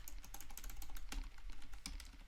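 Quick, continuous typing on a membrane keyboard with lubricated stabilizers, soft muted key presses in a fast irregular rhythm with a couple of heavier thocks, quiet and close with no talking.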